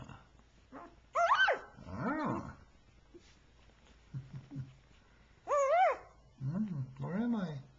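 Young puppy squeaking in short high-pitched whines and yips, several bursts spaced across the stretch, close and fairly quiet, with soft low breathy sounds in between.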